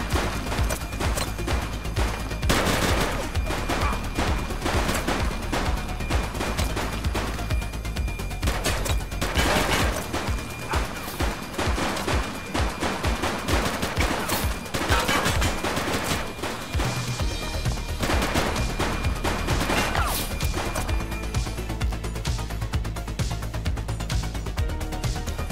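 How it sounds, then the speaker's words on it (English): Sustained gunfire in The Precinct, a police video game, with bursts of rapid shots over a dense, loud game soundtrack for nearly the whole stretch. "He's shooting!"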